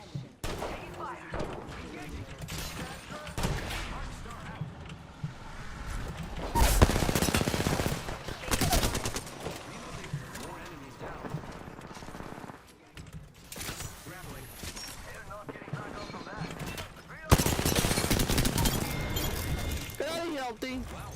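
Apex Legends gunfire in a competitive squad match, repeated loud shots and bursts with shattering impacts, arriving in clusters between quieter stretches, with players talking over the action.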